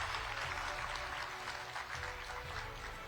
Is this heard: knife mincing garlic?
no